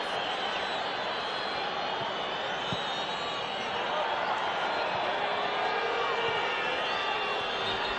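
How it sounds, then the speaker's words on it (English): Honduras supporters in a packed stadium keep up a sustained, shrill crowd whistle at an international friendly against Argentina, a steady high wash over the crowd's murmur, with commentary talk running beneath. "Honduras fans in the crowd whistling in the hope that the player can get treatment"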